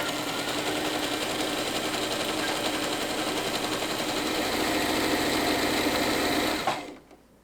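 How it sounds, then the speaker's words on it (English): A sewing machine runs a tight zigzag stitch, a loud, close, continuous buzzing whir that holds steady for several seconds and then stops abruptly near the end. "I guess I will do my zigzag stitch thing right now."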